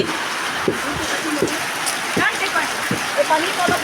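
Rain patters steadily while distinct drips tap at irregular intervals close by, with faint voices in the background.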